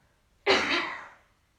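A single forceful cough, done as a breathing exercise, bursts out after a moment of quiet, then trails off into a breathy exhale.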